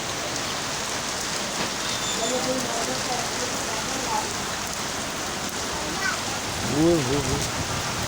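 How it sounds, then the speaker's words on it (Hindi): Heavy rain pours steadily and loudly across the whole stretch, a dense continuous hiss with a brief voice rising near the end. "कमाल की बारिश, कमाल की बारिश, कमाल की बारिश"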